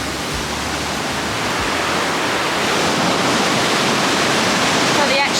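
Steady broadband roar of a waterfall in a Swiss Alpine valley in the Engadin, heard close and loud, constant throughout with no letup.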